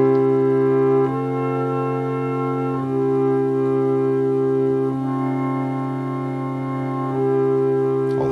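Sustained organ chords played with both hands move from C down to F and cadence back to C, steady held tones with clean changes between chords.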